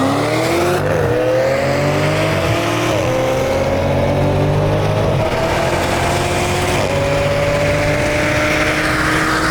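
A modded Audi S4 and a Dodge Challenger SRT launch from a dig in a drag race, engines roaring loud and close as they rev up through the gears with rising pitch, with shifts clearly audible.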